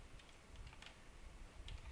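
Quiet computer keyboard typing during a Sky Wars game, a few soft scattered key clicks and taps at low level with faint background noise and no speech.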